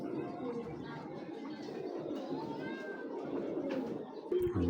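Pigeons coo softly in a loft or coop amid a murmuring background of birds, with people talking faintly nearby.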